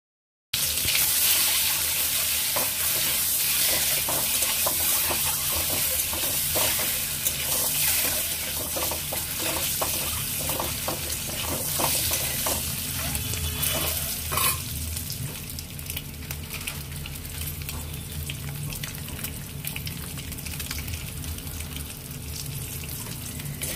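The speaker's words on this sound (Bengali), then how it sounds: "গুঁড়ো দিয়ে ডিমগুলো ফ্রাই করে নেব।" Eggs fry in hot oil, a continuous close crackle and sputter that runs the whole time and gradually softens toward the end, with no voices.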